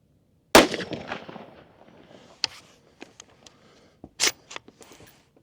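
A single sharp gunshot from an ambidextrous AR-15 rifle fired into dirt outdoors, loud and close with a short decaying tail, followed by a few fainter clicks and a second smaller report.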